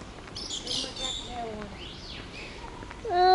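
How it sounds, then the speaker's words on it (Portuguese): Small bird chirping outdoors in the botanical gardens of Gibraltar, a series of thin high tweets and short trills at moderate distance over steady background ambience, with a brief louder call at the end. "aquilo é passarinho."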